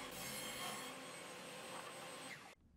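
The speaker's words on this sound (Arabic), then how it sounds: "ناخد بقى الصندوق ونروح لمنشار الطاولة أنا مثبت الدليل على مسافة حوالي 5 سم ونص وببدأ أقص وأفصل الغطاء" A table saw cuts through a wooden jewelry box to separate the lid, giving a steady, loud, continuous whirring rasp that holds evenly and then stops abruptly near the end.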